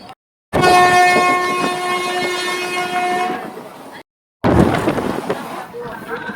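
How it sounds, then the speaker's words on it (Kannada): A train horn blares with a long sustained tone at Rameshwaram railway station, then a loud rumbling clatter of rail cars passing close by after a brief gap. "ಇನ್ನೂ ಒಂದು ಟ್ರೈನ್ ಹೋಗ್ತಿದೆ."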